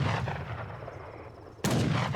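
Zambarak camel-gun units firing in an Age of Empires III match: a dense stream of overlapping gunshot cracks and booms, with a second loud burst of volley fire erupting near the end.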